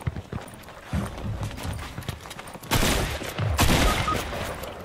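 Gunfire in the battle-royale video game Fortnite Reload, a dense burst of rapid shots that swells louder partway through and stays busy to the end, with no talking over it.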